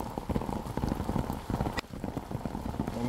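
Raindrops patter outdoors, a steady close spattering of drops landing on a surface with scattered sharper taps, continuous and fairly faint.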